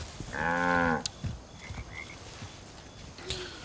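A single loud, close cow moo from Far Cry 5 lasts under a second, then fades into faint outdoor game ambience with scattered soft thuds.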